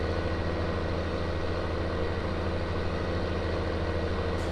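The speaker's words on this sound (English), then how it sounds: "It just sounds like to me that the tractor's working really hard." A 160 hp tractor in Farming Simulator 19 labors under load while pulling a subsoiler, a steady, dense low engine drone with constant rumble and no breaks.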